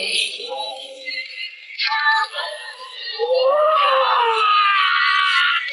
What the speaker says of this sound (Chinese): 他听到杰斯的惨叫声，连忙松开巨剑